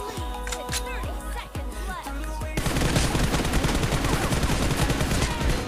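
M4 rifle fire in a 1v1 video game match: rapid sharp shots in quick bursts, first spaced, then merging into a dense continuous rattle, loud and close.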